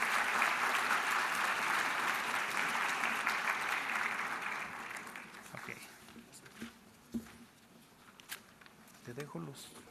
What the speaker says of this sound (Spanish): pido un fuerte aplauso y lo recibamos